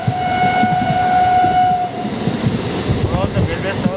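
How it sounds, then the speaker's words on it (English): An Indian Railways MEMU train decelerates near Satellite Goods Terminal before Whitefield, with a loud horn blast at the start over rolling wheel rumble and rhythmic clatter that continues as the train slows. "And the train is deaccelerating now."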